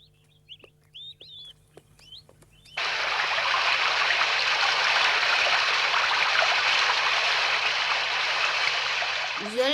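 A flowing stream fills the scene with a steady, loud broadband rush that starts abruptly after a few seconds of sparse chirping birds and then continues unbroken to the end.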